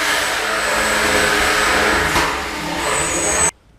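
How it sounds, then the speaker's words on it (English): The spinning weapon of Shrapnel, an antweight combat robot, whirs at full speed as a loud, steady, close-up whine with a brief dip midway, then cuts off abruptly near the end. "Shrapnel's weapon can spin up to full speed."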